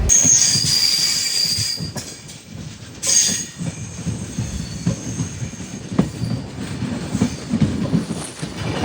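The Himsagar Express rolls slowly along the tracks with low rumbling, rhythmic clatter and occasional high wheel squeals, steady and fairly close.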